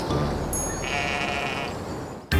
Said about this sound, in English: This is a sheep from our puzzle.